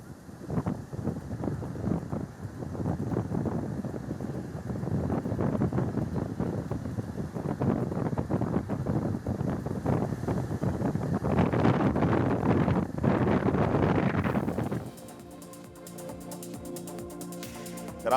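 Strong wind roars across the microphone on the rough Arabian Sea coast of Karnataka during heavy rain, a dense, gusting rush that drops away abruptly near the end.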